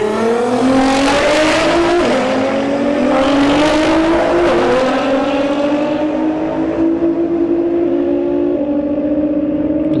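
Nissan GT-R cars launching at a drag strip test-and-tune event, engines screaming loud and close as they rev hard through rising gear pulls, with audible shifts before the sound fades into the distance.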